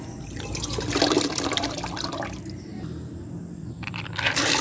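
Water pours and splashes into a cooking pot set on a stove for boiling chana dal lentils, a close gushing, gurgling stream that surges, eases briefly, then picks up again.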